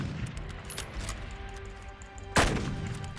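A BH Kar98k bolt-action rifle fires in the video game Fallout 4, one loud, close, booming shot late in the stretch that rings out over faint game ambience.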